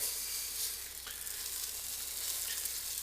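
Salted butter sizzles steadily in a hot pan, a continuous close hiss with no voices, made while preparing cream of mushroom soup.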